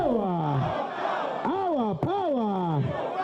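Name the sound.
NUP supporters' crowd chanting at rally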